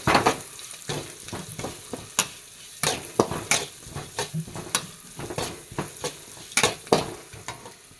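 Fennel seeds, cumin, fenugreek and black peppercorns fry in oil in a pan with garlic, ginger and green chilli, giving a steady sizzle broken by frequent sharp scrapes and clinks of a spoon stirring, close and without talk.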